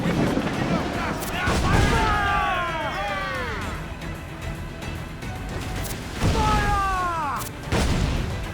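Broadsides of ship cannons in the Assassin's Creed Black Flag video game: loud rolling volleys of booms, one near the start and another later, with whistling shot and heavy rumbling battle noise in between.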